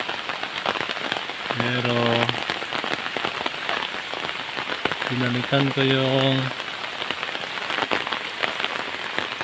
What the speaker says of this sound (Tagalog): Ulan ngayon.